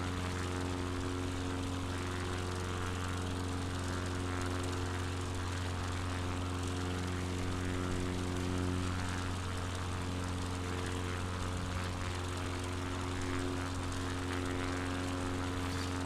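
A propeller airplane engine drones steadily through a climb in Flight Simulator 2020, on a Patagonia bush flight, a loud continuous tonal hum that holds level for the whole stretch with no talking over it.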